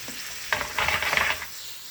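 Shrimp and vegetables frying in a hot pan for a Cajun dish, with a brief clatter of stirring over a short burst of crackling sizzle, close by and without speech.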